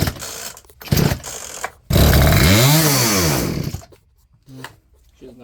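Chainsaw fitted with a new carburetor revving at full throttle, a loud close roar rising and falling in pitch for a couple of seconds, with sputtering pulls and brief talk around it.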